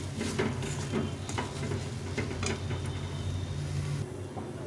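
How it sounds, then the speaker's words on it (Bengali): Mashed fried eggplant with chopped coriander is stirred in a pan, giving a steady low sizzle and hum under a run of irregular spoon scrapes and taps, close and continuous. "একটু নেড়ে চেড়ে নিয়ে নামিয়ে দেবো।"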